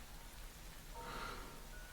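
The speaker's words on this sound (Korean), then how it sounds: "비가 온다. 한없이 오고 있다." Rain falls steadily outdoors, a soft, even hiss of drops on surfaces that carries on without pause, with no voices.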